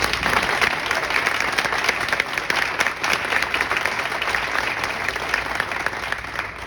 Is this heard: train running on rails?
no